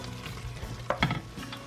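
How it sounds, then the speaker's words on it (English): Cilantro stirred into a hot cooking pan with salt and pepper, a couple of brief utensil scrapes and clacks over a constant gentle sizzle, near and without talk. "I'm going to take this cilantro, stir that in"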